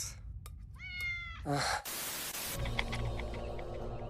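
A cartoon cat meows in several short, rising cries from Star Wars: The Clone Wars, then a burst of loud static hiss gives way to a steady electronic hum.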